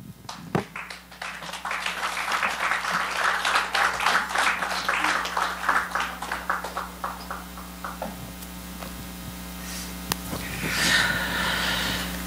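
Applause from a church congregation after a closing prayer rolls in with scattered claps that build into steady clapping, then fades out over a low electrical hum.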